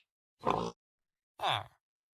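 A pig in a One Block survival video game gives two short, close grunts about a second apart, with silence around them.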